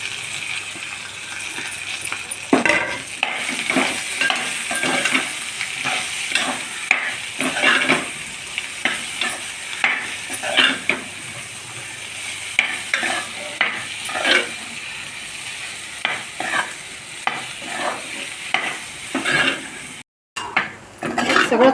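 A spoon stirs potatoes and roasted peanuts frying in a pan for sabudana batata khichdi, with steady sizzling under repeated scraping and clinking of utensil against the metal pan, close and alone.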